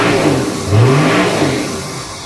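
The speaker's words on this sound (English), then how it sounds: "why don't you rev it up?" Toyota 80 Series LandCruiser with a 4.2-litre 1HZ diesel is revved up in a shed, loud and close. The engine note climbs sharply, holds briefly, then settles back down.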